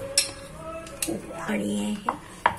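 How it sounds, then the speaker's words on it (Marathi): A metal lid clanks onto a pot of potatoes set to boil with a pinch of baking soda, a few sharp clinks and a scraping rattle, close and brief. "आणि आता बटाटे ठेवते उकडायला आणि झाकण बंद करत आहे"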